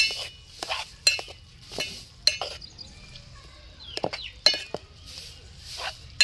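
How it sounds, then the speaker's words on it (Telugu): Tender tamarind leaves stirred into a dish in a pan, with sharp metal spoon clinks against the pan at irregular intervals and soft scraping stirs between them, close and moderately loud over a quiet background. "తీసుకున్న తర్వాత చింత చిగురు కలుపుకోవాలి."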